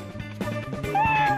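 A Dwelf cat meows in a short, close, fairly loud call with a rising tonal pitch near the end, with no talking around it.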